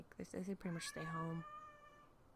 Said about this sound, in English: You could probably hear him meowing.